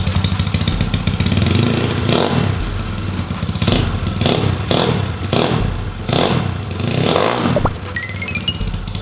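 A freshly rebuilt motorcycle engine, never started before, running loud and close with repeated revs rising and falling in rhythmic surges, plus some mechanical clatter.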